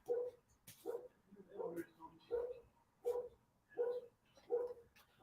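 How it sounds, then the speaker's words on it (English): A dog barks repeatedly in a steady rhythm, about seven or eight fairly faint, mid-distance barks with short yips mixed in, with some speech-like sound around them. "as the dog is barking"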